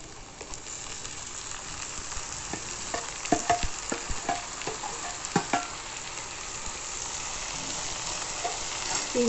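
Tomato pieces and curry leaves fry in a pan for a sesame tomato curry, giving a steady broadband sizzle with scattered sharp crackles and pops, close and moderately loud, with no voices.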